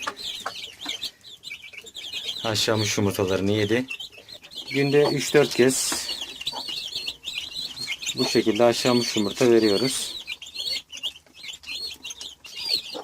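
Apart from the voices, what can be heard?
chicks chirping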